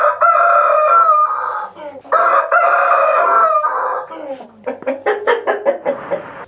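Sussex hens cluck and a rooster crows loudly nearby; two long, full crows come first, then a run of short, rhythmic clucks, with no talk.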